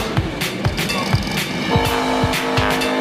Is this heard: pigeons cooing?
no